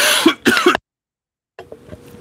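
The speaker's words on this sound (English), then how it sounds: "I apologize for coughing." A person coughs twice in quick succession, close and fairly loud, then after a short silence gives a softer throat-clearing cough.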